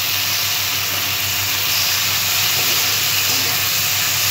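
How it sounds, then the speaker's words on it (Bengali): Shrimp frying in hot oil in a pan until lightly reddened: a loud, steady, continuous sizzle and hiss with no pauses. "চিংড়ি মাছগুলো আমি আর একটু ভেজে নেব"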